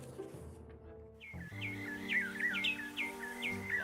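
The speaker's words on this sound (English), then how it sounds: "Loud birds." Loud birds in the video game The Life and Suffering of Sir Brante, a run of bright repeated chirps and whistles over a sustained musical drone, close and clear.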